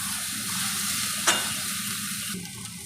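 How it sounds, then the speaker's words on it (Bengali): Spice paste frying in hot oil, a continuous close sizzle with occasional stirring scrapes of a spoon in the pan. "ভালো করে মশলাটাকে ভেজে নিতে হবে।"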